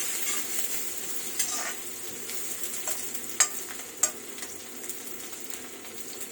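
Semal flower sabzi sizzling in an iron kadai, a steady close hiss broken by scattered stirring scrapes and a couple of sharp clinks of a spoon against the pan.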